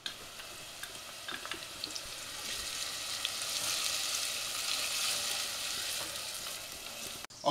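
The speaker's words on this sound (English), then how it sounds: "the onion and the garlic already started to fry" Onion, garlic and chopped hot pepper frying in a pan for penne arrabbiata, a dense, continuous close-up sizzle that swells gradually with occasional stirring clicks and no talking.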